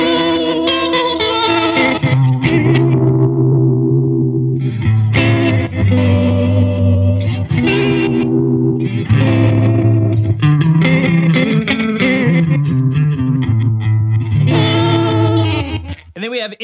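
Guitar played through the Broken effect on a Hologram Chroma Console effects pedal, giving loud, warbling, degraded chords and notes with chorus-like wobble and distortion that sustain continuously before cutting off at the end.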